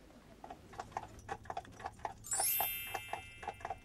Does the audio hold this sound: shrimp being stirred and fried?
no